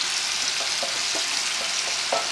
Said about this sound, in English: Next, we're going to add our tomatoes.